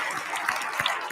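Audience at the WordCamp US 2019 State of the Word keynote breaking into applause, a brief, dense burst of crowd clapping.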